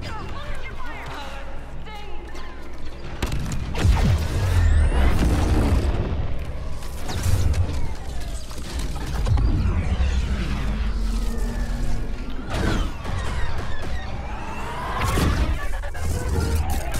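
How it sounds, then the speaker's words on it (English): EMP detonation in Star Wars Battlefront II: a string of heavy booms and crashing blasts rolls through a battle, several deep impacts spaced a few seconds apart amid sweeping whooshes and rumbling background noise. "Beginning detonation sequence"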